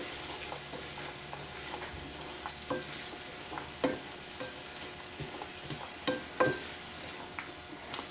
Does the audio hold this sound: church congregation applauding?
no